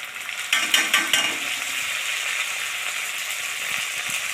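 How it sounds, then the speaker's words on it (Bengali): New potatoes and onion fry together in a pan, a close, steady sizzle with a few clattering stirring scrapes near the start, and no one speaking. "পেঁয়াজ দিয়ে আর আলু দিয়ে একসঙ্গে ভেজে নেব।"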